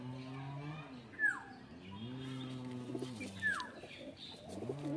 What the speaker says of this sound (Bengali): এটা নর পায়রা, এগুলো শখের জন্য, এটা সেলের জন্য নয়।